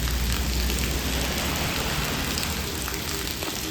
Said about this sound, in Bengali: শুধু বৃষ্টি না শিলাবৃষ্টিও পড়ছে, এই দেখো শিলাবৃষ্টি পড়ছে।